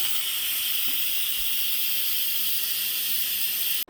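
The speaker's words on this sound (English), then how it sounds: "I like to not steam vent my cabinets" Steam hisses out of an Instant Pot pressure cooker's release valve in a loud, steady, continuous jet that cuts off abruptly at the end, with no voices.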